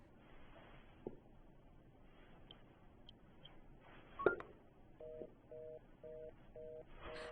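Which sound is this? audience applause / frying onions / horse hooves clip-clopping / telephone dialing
telephone dialing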